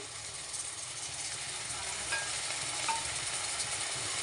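Ginger garlic paste and green chillies frying in a pan over a medium flame, a soft, even sizzle with faint stirring scrapes, steady and close.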